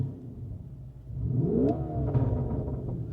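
Lamborghini Urus SE engine revving, a deep baritone rise in pitch that swells and then settles into a steady rumble, moderately close and heard on its own.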